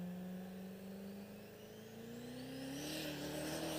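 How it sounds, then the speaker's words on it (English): A motorcycle engine revs up steadily during a drag-strip burnout, pitch climbing over a few seconds as a high whine builds, heard at a moderate distance. "I think he's working on the burnout right now."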